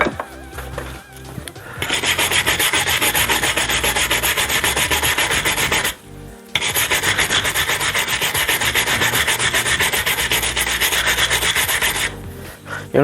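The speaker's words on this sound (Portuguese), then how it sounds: "Vamos dar aqui uma esfregadela a ver se isto sai." Close abrasive scrubbing on Alfa Romeo 33 1.7 QV brake parts during disassembly, two long continuous rasping passes split by a brief pause, harsh and steady with no speech.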